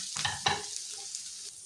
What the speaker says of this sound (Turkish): İyice karıştırıyorum. Biraz daha kavuruyorum.